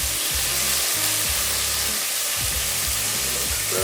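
Cherry tomatoes hit a pot of hot oil with coloring garlic and chili, giving a loud, continuous, close-up sizzle with a low rumbling undertone and no talking.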